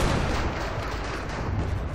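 Dense, continuous gunfire and booms from the shooter game Call of Duty Modern Warfare, a loud unbroken barrage of shots blending into a roar with no pauses.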